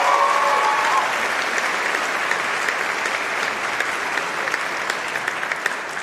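An audience at the BAFTA Games Awards applauds in a dense, sustained burst of clapping that carries steadily throughout, a brief tonal sound at the start.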